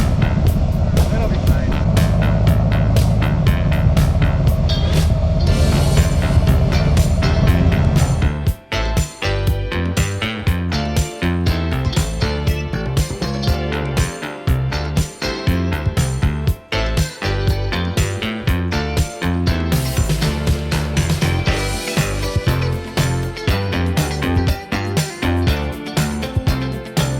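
A Toyota 86 engine idles in neutral for about eight seconds with a steady low rumble, then the sound turns busier and choppier as voices talk over it.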